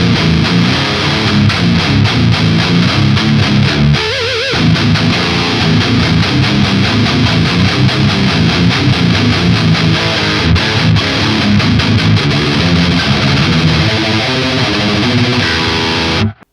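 A Cort KX507MS seven-string electric guitar on its passive pickup voicing chugs out heavy distorted riffs, loud and dense with steady palm-muted rhythm, ending abruptly, no voices.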